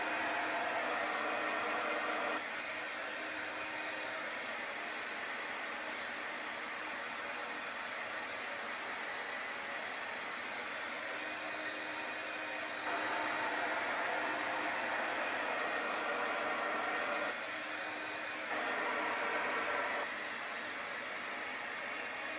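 A hair dryer blows on fresh chalk paint during a Chalk Couture paper towel press project, a loud steady whoosh running throughout with slight shifts in pitch as it moves.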